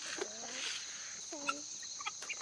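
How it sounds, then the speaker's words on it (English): A hand-held chicken on a homestead gives a few short, soft clucks in quick bursts, faint and close, over a light background hiss. "Peter, this is how you hold a chicken"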